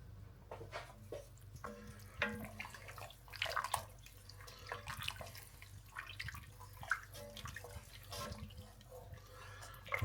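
Stock is poured into a soup pot of mulligatawny, giving a quiet, steady splashing and trickling with scattered drips and clinks, close but faint.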